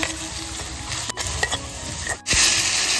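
Spices sizzling and being stirred in a pot for biryani, a continuous loud hiss with scraping stirs and a brief pause before the frying surges again.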